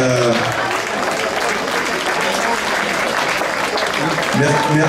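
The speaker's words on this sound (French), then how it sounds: "ceux qu'on peut applaudir, ce sont vraiment les bénévoles" Loud, continuous applause from a festival crowd thanking the volunteers, thick clapping that fills the whole stretch at steady volume, with voices faintly audible beneath it at the start and end.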